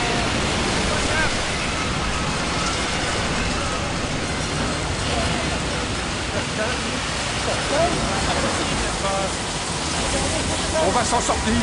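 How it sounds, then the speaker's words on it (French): Storm-tossed waves churn and crash continuously at sea, a dense, roaring wash with rain-like hiss, loud and steady throughout, with voices faintly present underneath. "Les vagues sont trop fortes!"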